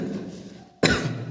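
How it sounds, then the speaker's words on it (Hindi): A single sharp cough bursts out suddenly and close, right after a quiet stretch and a moment of faint background murmur. "यार खांसी हो गया"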